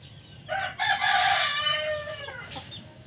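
Pet chickens at morning feeding time, with a rooster crowing loudly and close by in one drawn-out call while hens cluck softly in the background.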